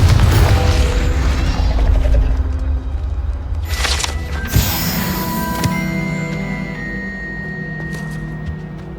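Confringo blast spell in the Hogwarts Legacy video game: a loud low boom and rumble with crackling debris and a sharp secondary crash, then a fading magical shimmer.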